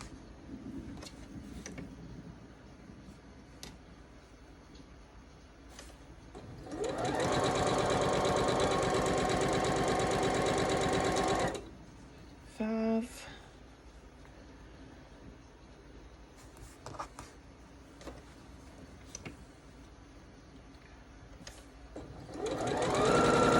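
Sewing machine stitching quilt block pieces: one loud run of rapid stitching for about four seconds, a brief second burst, then quieter handling noises and the start of another run at the end.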